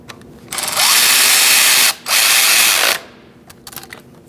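A power tool drives a bolt on the intake manifold of a 2008-2014 Mercedes-Benz C300 3.0L V6 in two loud close bursts separated by a brief pause, followed by faint clicks and taps.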